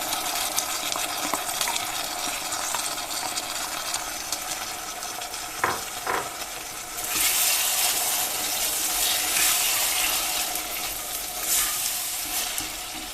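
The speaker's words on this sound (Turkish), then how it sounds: "Şimdi içerisine yeşil mercimeklerimi ilave ediyorum." Green lentils tipped into a pot of sizzling minced meat and tomato paste, a short rattling pour followed by steady frying sizzle and stirring, close and continuous.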